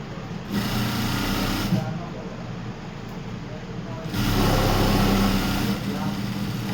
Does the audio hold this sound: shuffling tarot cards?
no